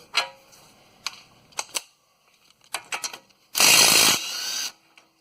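A ratchet wrench working a 21 mm outer tie rod nut on a 2012 Ford Explorer, heard as a few short clusters of close metallic clicks, then a loud, harsh whirring burst lasting about a second before dying away.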